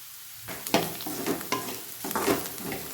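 A North Karnataka evening snack, churumuri girmit, frying in a pan while being stirred: a steady sizzle broken by several loud scraping strokes of the spoon, close and with no talk.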